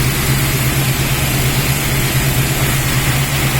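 A rebuilt 1969 AMC AMX 390 V-8 with a two-barrel Carter carburetor runs at a steady idle, a loud, close, continuous low throb heard on its own.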